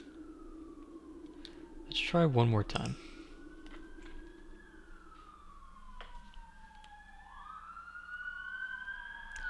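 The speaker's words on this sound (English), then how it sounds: "Sorry about those sirens." Distant emergency sirens wail in the background, their long rising and falling tones sliding slowly and faintly throughout, while a person speaks briefly near the start and a few soft clicks sound.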